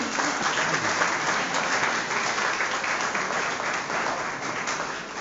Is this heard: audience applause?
yes